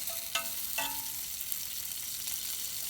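Land O'Lakes butter sizzling in a hot cast iron skillet, a steady close hiss with a couple of brief squeaky scrapes near the start, no voices.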